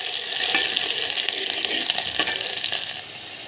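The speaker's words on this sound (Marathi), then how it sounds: "बघा तेल ठेवलेलं आहे, गंजामध्ये तापलेलं आहे। आता त्यामध्ये एक छोटा कांदा टाकते कापलेला।" Chopped onion sizzling in hot oil in a pan, a steady close frying hiss with occasional crackles and pops and no talk.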